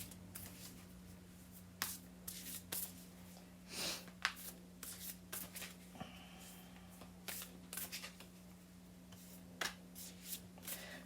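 Large oracle cards from an Earth Power Oracle deck being shuffled, giving repeated soft papery riffles and slaps in irregular bursts, fairly quiet and close with no talking.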